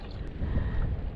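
Gusty morning wind buffets the microphone in low rumbling surges, with faint water lapping underneath, heard from a kayak on a bass fishing lake, no voices.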